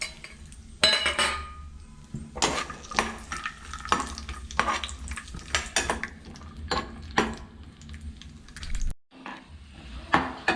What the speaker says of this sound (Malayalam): നമ്മുടെ നെയ്യ് ഒരുവിധം ചൂടായിട്ടുണ്ട്. അതിലേക്ക് നമുക്ക് പറങ്ങാണ്ടി ഇട്ട് കൊടുക്കാം.